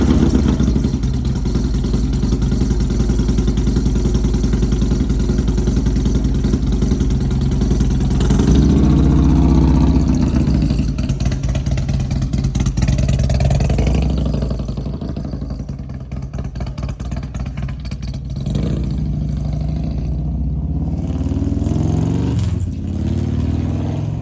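A motorcycle with a freshly repaired chain runs loud and close, its engine idling steadily with a rough, rattly note, then dropping and rising again in a few revs, with no talk.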